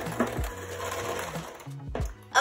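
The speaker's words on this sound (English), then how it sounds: "So now I'm gonna give this a mix until it's combined." Electric mixer whirring steadily through pumpkin cake batter in a home kitchen, a close, continuous motor hum with slight shifts in pitch and no talking.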